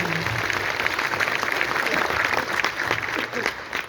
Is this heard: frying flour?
no